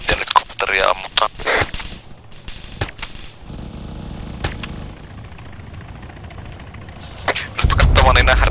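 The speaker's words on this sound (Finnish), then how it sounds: "Kuulostaa, että helikopteri ampuu jotakin kovasti." A helicopter fires its guns, heard as scattered distant gunshot bursts and machine-gun rattle with a faint rotor drone, under intermittent voices talking.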